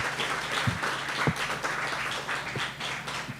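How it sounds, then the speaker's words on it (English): Audience at an Epic Chef cooking competition event applauding, a dense steady clapping that is fairly loud and fills the whole clip. "So everybody, a round of applause for Alexandria and the Zest Podcast."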